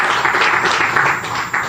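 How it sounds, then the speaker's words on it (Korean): Audience clapping at a church gathering, a steady burst of hand claps filling the space for a couple of seconds without voices. "박수 한번 칠까요?"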